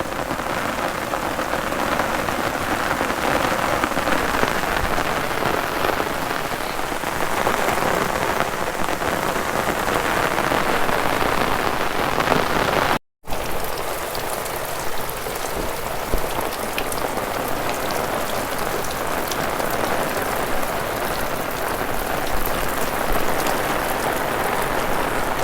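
Heavy rain pours steadily over farmland with wind-flattened rice crops in an Indian village, a dense unbroken hiss of drops on surfaces that continues for the whole stretch except one instant of silence.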